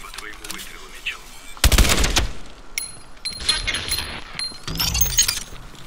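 Gunfire in Call of Duty Advanced Warfare: a sharp burst of shots with shattering glass and clinks, then scattered further shots and impacts, loud and close, with a voice speaking in between.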